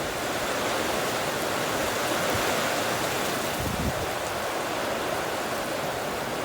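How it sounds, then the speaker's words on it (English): Steady cold winter rain falls in Western Australia, a dense, even hiss of drops with no pauses, heard alone without talk. "Beautiful bit of cold rain in Western Australia during our winter."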